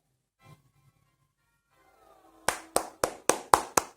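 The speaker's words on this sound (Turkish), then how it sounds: "Alkışlıyorum ya bizim takıma" Hand clapping for the team, six sharp, evenly spaced claps that ring out close and loud after a quiet stretch with a faint tap and some soft background sound.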